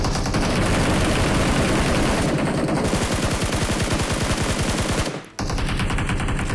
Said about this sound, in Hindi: अब जो फायरिंग है गाइस वो आ रही थी इस साइड से